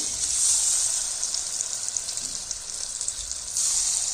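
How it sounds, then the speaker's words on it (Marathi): Small spoonfuls of wheat flour batter frying in hot oil over medium heat, a steady bright sizzle and bubbling hiss close up, swelling briefly at the start and end, no talk. "आणि मध्यम गॅसवरती छान असं मी तळून घ्यायचं"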